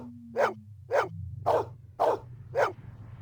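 A dog barks five times at a steady, evenly spaced rhythm in the 1997 Blade Runner video game, clear and fairly close over a low, constant ambient hum.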